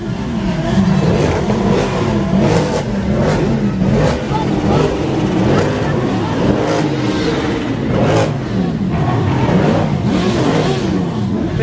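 A Nissan GT-R supercar's engine revs and growls as the car pulls away nearby, with bursts of acceleration over steady street noise and people talking around it.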